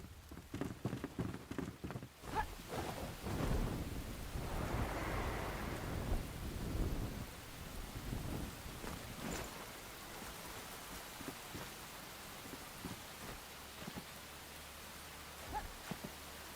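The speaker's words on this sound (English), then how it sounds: "And it's raining." Rain falls and thunder rolls in the video game Enshrouded: a loud rumbling swell early on, then a softer steady patter with scattered drops over the rest of the stretch.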